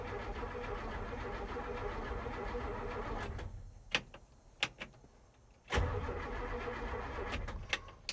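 A 1971 Chevrolet C/10 truck engine running with a steady mid rumble, dropping away to near quiet with a few clicks, then catching again with a loud start and resuming its idle.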